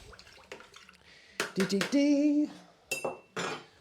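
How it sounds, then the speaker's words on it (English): Wine must with added yeast nutrient is stirred in a bucket, a utensil knocking and clinking against the sides with watery swishes in short, uneven bursts at close range. "So give this a little stir."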